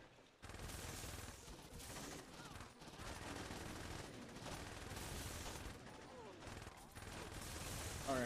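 Gunshots in Saints Row 2 stream as sustained rapid fire, a loud, dense run of shots and mechanical clatter lasting several seconds, with brief gaps and a voice faintly mixed in.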